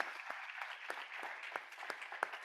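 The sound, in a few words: applause for the speaker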